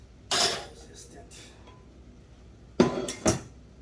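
Metal cooking pan handled in a home kitchen while preparing steamed fish, giving a couple of sharp clanks and clinks, then two louder knocks close by, with quiet pauses between.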